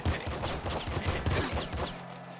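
Rapid, muffled gunfire in the top-down shooter Nuclear Throne, a dense run of quick shots at low volume that trails off at the end.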